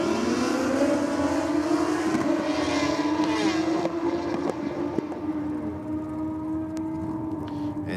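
A drag racing vehicle at a track championship launches down the rocket lane, a loud continuous engine roar that climbs in pitch and holds steady for the full stretch, with a slight drop midway.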